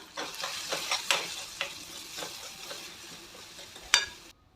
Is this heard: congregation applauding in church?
no